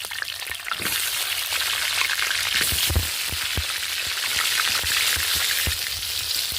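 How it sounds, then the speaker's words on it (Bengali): Cut potatoes are dropped into hot oil with cumin seeds in a wok, making a loud, close, continuous crackling sizzle dotted with quick spitting pops. "এবার আমি কড়াইতে কেটে রাখা আলুগুলো দিয়ে দিচ্ছি"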